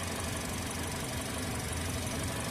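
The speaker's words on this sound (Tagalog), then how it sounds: "Tahimik ang makina yan." A Toyota Vios engine hums steadily and low, a quiet even idle throughout with no voices or other sounds.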